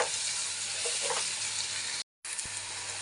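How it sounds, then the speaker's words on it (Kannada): Onion and tomato sizzle loudly in a pan for a fenugreek-leaf gravy, a steady frying hiss with faint stirring that cuts out briefly and then resumes. "ಇವಾಗ ನಾನು ಟೊಮೊಟೊ ಹಾಕ್ತಾ ಇದ್ದೀನಿ. ಇದು ಅಷ್ಟೇ ಚೆನ್ನಾಗಿ ಫ್ರೈ ಆಗಬೇಕು."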